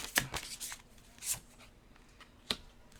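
Tarot cards are shuffled and drawn at close range, a quick riffle followed by softer slides and flicks as single cards are pulled and set down.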